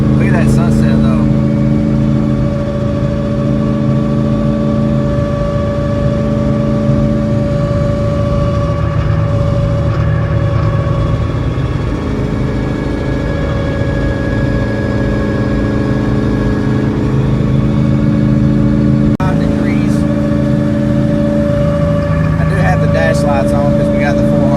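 A Ford Coyote engine with an 80mm On3 turbo kit runs loud and steady from inside a car with the interior stripped out, its turbo spool a high whine over the engine drone, with brief talk at times.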